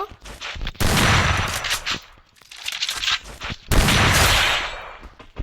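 Shotgun fire in a video game, two heavy blasts about three seconds apart, each ringing out loud and close with a long rumbling tail, and smaller clicks and handling noises in between.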